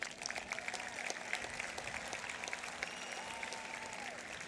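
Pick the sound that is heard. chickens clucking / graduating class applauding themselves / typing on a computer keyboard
graduating class applauding themselves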